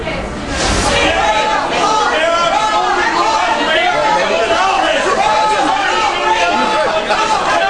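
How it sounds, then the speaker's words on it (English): A large rally crowd chants "Ron Paul" and boos a former mayor while he tries to speak, a loud, continuous roar of many voices. "you can hear them chanting, "Ron Paul, Ron Paul," and then booing the former New York City mayor while he's trying to speak"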